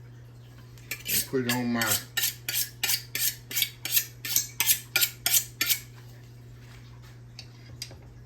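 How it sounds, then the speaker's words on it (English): Knife chopping through ham-stuffed puff pastry on a board in quick, regular sharp taps, about a dozen close strikes in a steady rhythm, with a brief spoken phrase near the start. "And we'll just get our knife here. And we're just gonna cut it in squares."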